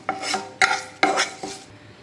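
Curry leaves being stirred and sautéed in a pan with dried red chillies, four quick scraping, rustling strokes in a steady rhythm, close and moderately loud, no voices.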